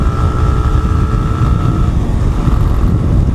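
A motorcycle engine drones loud and steady on a solo ride, with a constant low rumble, whine and wind rush throughout.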